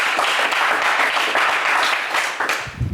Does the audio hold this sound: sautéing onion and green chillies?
no